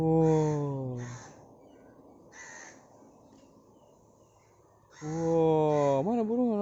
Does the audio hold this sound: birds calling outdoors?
yes